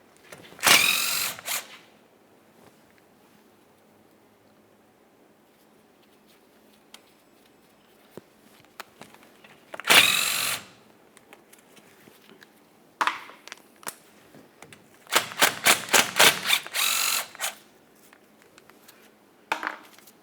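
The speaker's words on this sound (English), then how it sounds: "I'm going to start by removing the first mounting bolt." Power tool driving out 13mm differential cover mounting bolts on a 2004-2008 Ford F-150: several short, loud whirring bursts separated by quiet pauses, the last a rapid stuttering run of pulses.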